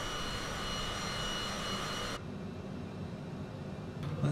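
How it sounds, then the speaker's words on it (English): Steady jet engine whine and broadband roar from a Bombardier Global 6000 business jet with both engines running in the MSFS2020 flight simulator, continuous and even, with a brief tonal shift partway through. "So both engines are started."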